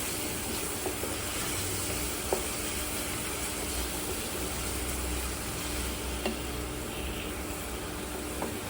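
Prawn curry for chingri malaikari stirred in a pan on an induction cooktop, giving a low continuous sizzle and hiss with occasional soft spoon knocks against the pan, steady and fairly quiet, with no speech.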